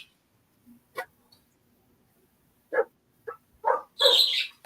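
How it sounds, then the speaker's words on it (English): A dog barks several times loudly in short separate bursts, the last bark the loudest and longest, against a quiet indoor background. "That's the loudest bark I've ever heard."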